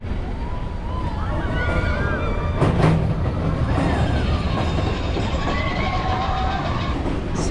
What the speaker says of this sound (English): 17 minutes later, we're getting on the train.